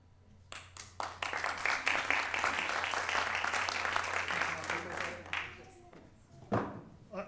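Sustained audience applause at a forum's final session, a dense crowd of clapping hands that swells quickly and holds steady for several seconds before fading, with brief voice sounds afterward.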